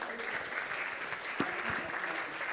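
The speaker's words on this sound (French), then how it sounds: "pendant que la foule en délire vous applaudit dans ce studio" Studio audience at a startup awards ceremony applauds the winners, a continuous even roar of clapping with a few sharper claps standing out, faintly overlaid by distant voices.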